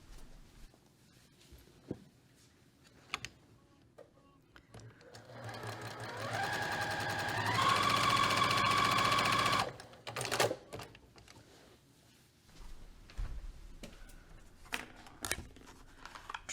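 A sewing machine stitches quilt pieces in one steady, close run lasting a few seconds, with quiet handling and soft clicks of fabric and tools before and after.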